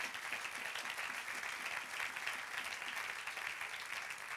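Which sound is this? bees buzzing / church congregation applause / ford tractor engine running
church congregation applause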